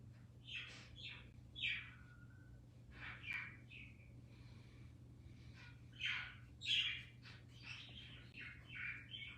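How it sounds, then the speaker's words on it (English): Pet bird chirping indoors, a series of faint scattered tweets and short squawky calls over a low steady hum, with no talking. "Can y'all hear my bird?"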